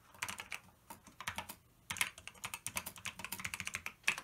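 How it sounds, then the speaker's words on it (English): Steady, clacky typing on an Apple mechanical keyboard out of its case, close and crisp, with quick bursts of keystrokes and short pauses. "Apple mechanical keyboard. It almost sounds better out of the case than in it"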